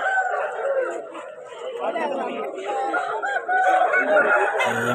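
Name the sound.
rooster at Vijayawada rooster market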